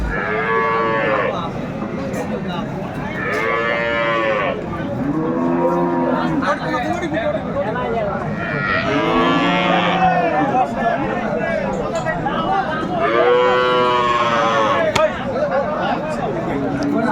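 Cows and calves moo repeatedly in long, loud calls, several overlapping, over a constant background of crowd chatter at a cattle market.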